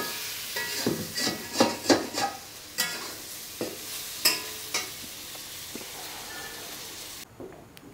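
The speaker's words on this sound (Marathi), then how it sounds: "पुन्हा एकदा सगळं खालीवर करून व्यवस्थित" Prawn masala with raw mango being stirred and fried over a wood-fired stove, a spatula scraping the pan in quick, uneven strokes over a soft background sizzle, then quieter, spaced scrapes.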